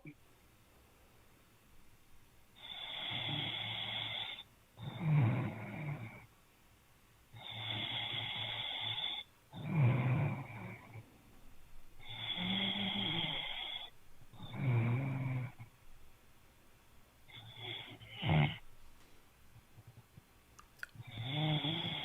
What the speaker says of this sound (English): Was he snoring